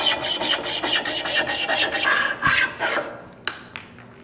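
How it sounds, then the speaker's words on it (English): A small handsaw from a cheap fire-starting kit cutting through a wooden stick, with rapid rasping back-and-forth strokes close up that ease off into a few knocks at the end. "We got a little handsaw. Let's test it out."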